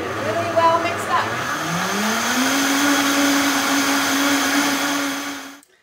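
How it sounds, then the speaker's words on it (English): An electric blender mixes crepe batter, its motor winding up in pitch over the first couple of seconds, then holding a loud, steady whirring drone before cutting off abruptly at the end. "Okay, so we're just gonna put the blender on"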